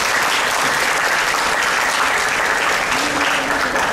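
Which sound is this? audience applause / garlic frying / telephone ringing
audience applause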